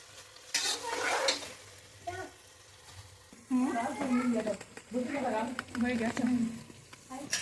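Food fries in a home kitchen pan with ginger, garlic and cardamom while it is stirred. The sizzling and scraping sounds come through clearly, and someone talks over them throughout.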